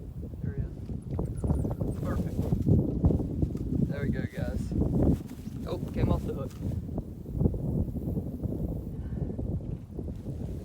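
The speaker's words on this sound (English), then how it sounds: "The wind is so bad." Strong gusting wind buffets the microphone outdoors beside a dried-up pond, a loud, rough, continuous rumble with people talking over it.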